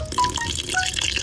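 A short burst of water trickles and gurgles into an egg and masala marinade for a Krishnagiri-style fried fish, close and bubbly with small liquid plinks.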